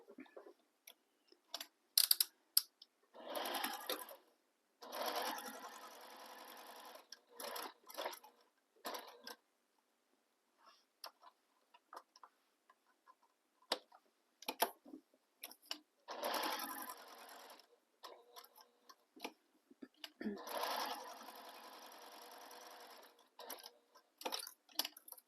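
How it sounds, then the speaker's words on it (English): A sewing machine top stitches a fabric sling bag in repeated bursts of rapid mechanical stitching, some long and some brief, separated by quiet pauses and small clicks. "So I'm going to top stitch up the side, across the top, back down the other side,"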